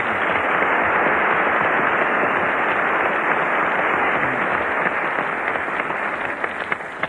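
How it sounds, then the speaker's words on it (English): An old broadcast-quality recording of an audience clapping heartily at a children's quiz show: a thick, continuous roar of applause with a narrow, muffled tone, fading a little toward the close. "I think we ought to have a big round of applause for the real Mr. Walking Stick."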